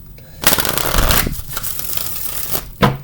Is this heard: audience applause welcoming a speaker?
no